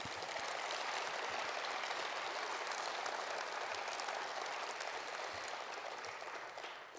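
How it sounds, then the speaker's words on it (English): Steady, dense applause from an awards ceremony audience, continuous clapping throughout that tapers off slightly near the end. "we could all give them a round of applause"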